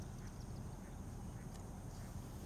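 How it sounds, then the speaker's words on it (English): Ducks quack faintly in the distance beneath steady low rumbling background noise, a few scattered calls over a couple of seconds. "There be ducks."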